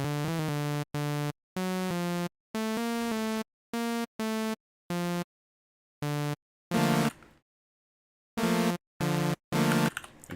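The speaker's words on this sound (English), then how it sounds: "Because it's the Flash theme song." Flash theme song rendered as a chopped dubstep joke: loud synth chords stutter in short gated bursts, with a noisy wobbling burst near the middle and more choppy hits toward the end, no talking.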